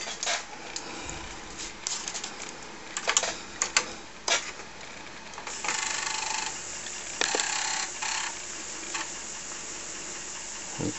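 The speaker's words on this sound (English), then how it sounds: "let's just quickly boot the machine up to disk" A TRS-80 Model 1 computer booting from its floppy disk drive, with repeated mechanical ticks, clicks and seeking rattles, some in quick bursts and a longer buzzing stretch, close and alone.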